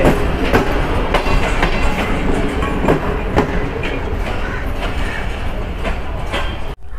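The Pakistani 34 Down Business Express, a passenger train between Lahore and Karachi hauled by an AGE30 locomotive, rolls loudly along the rails. Wheels beat out a steady clickety-clack close by, with no talking, until the sound cuts off abruptly.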